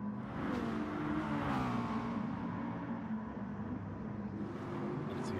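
Hyundai race cars in a racing video game roar continuously in a dense, steady engine drone, several cars blending together without a break, loud and close throughout.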